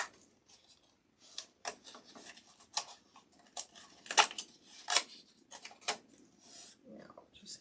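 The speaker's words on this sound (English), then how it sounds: "Now just go back and trim with my scissors that are rounded" Rounded scissors snip in short, irregular bursts while trimming a scarecrow, crisp close-up cuts separated by brief pauses, with faint rustling in between.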